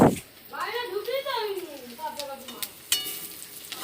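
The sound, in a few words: river fish frying in pan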